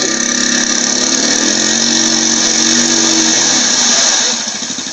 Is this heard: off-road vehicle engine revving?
yes